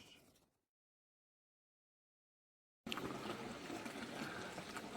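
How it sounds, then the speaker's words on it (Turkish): Gölalan waterfall in Canik, Samsun: a brief faint wash fades into near silence, then a loud, steady rush of falling water bursts in and continues to the end. "Samsun'un doğal güzelliklerinden birisi olan göl alan Şelalesi'ne geldik."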